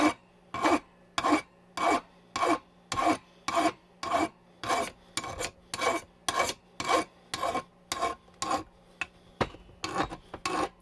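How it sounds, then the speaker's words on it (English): A hand file rasps across a metal exhaust muffler support from a Yamaha Road Star Silverado XV1600, with about twenty even push strokes in a steady rhythm, close and clear, separated by short pauses and no talking. "That's not the way you file. You go like this. You push forward, lift up."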